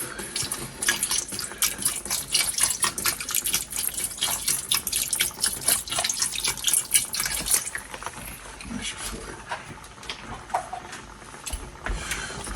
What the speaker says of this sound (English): Incorporate a little beef broth